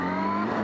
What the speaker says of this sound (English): Oh, damn traffic,